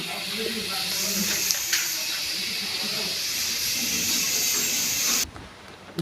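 Dry red chilies and black cumin tempering in hot oil in a wok after fried prawns: a loud, sustained close hiss and spatter that drops away sharply near the end.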